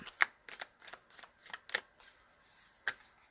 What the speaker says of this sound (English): These are so hard to shuffle.